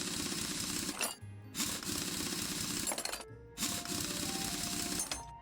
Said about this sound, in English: let's take this tyre off. So these bolts, the ones in yellow, they're easy to take off